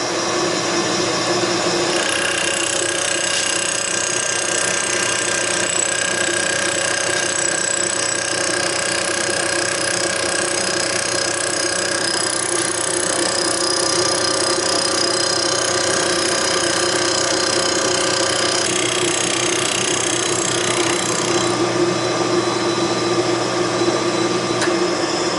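A machine tool takes a light finishing return pass across a workpiece, giving a steady, close, loud grinding and rubbing drone that runs unbroken throughout with no talk.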